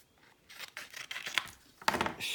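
Scissors cut through paper pieces for mixed-media craft work in a string of crisp, close snips and rustling cuts, irregular in rhythm, with a sharper burst of snips near the end and no talking.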